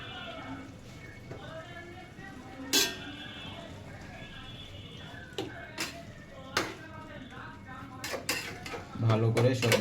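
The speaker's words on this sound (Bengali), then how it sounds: "তো এখন এটা ঢেকে দিব।" Metal cookware clinks and clatters in a home kitchen as a lid goes onto a cooking pot of minced beef bhuna, several sharp knocks and scrapes close by, with someone talking throughout.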